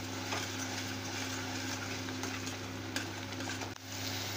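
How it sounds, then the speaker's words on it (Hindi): Spicy masala gravy for aloo sabzi simmers and sizzles steadily in a kadhai, with occasional stirring scrapes over a constant low cooking hiss and no talking. "मसाले को अच्छे से पकने देंगे"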